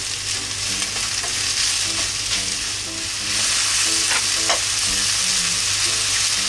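Chikuwa fish cakes and mushrooms frying in a little oil, a continuous close sizzle with occasional stirring scrapes under light background music.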